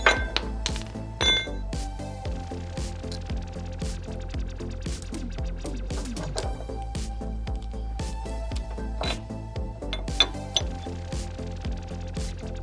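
Metal rattle rings clink and jingle against a recovery shackle and recovery point on an off-road vehicle, with repeated light metallic taps and rings over a steady low hum.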